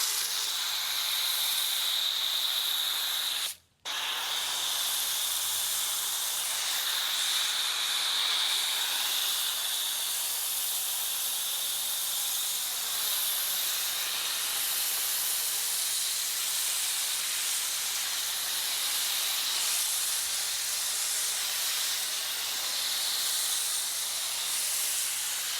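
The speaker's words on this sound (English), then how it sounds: "I'm cheating here a little bit because I've got a monster pressure washer." A powerful pressure washer driving a foam cannon sprays soap onto a 2005 Mitsubishi Evo 8, a continuous loud hiss broken by one brief pause near the start.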